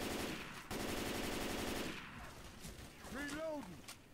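Sustained automatic gunfire from the video game Left 4 Dead 2, a dense rapid burst for about two seconds after a brief gap, then fading into game noise and a short squealing creature cry.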